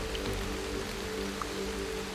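Steady rain falls on a mountain hiking trail in Madeira, a continuous close hiss of drops with no voices.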